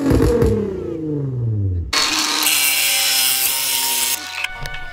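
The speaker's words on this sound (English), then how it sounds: "I've got myself a grinder. I cut that off" An angle grinder slices through a metal bar on a drift car, a loud sustained bright screech after an opening engine rev and whine, cutting off near the end.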